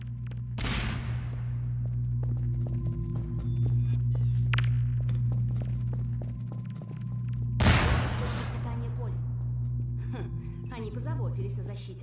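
Automatic gunfire from a turret in Half-Life 2: Episode Two, two sharp loud bursts standing out over a steady low game hum and continuous background noise.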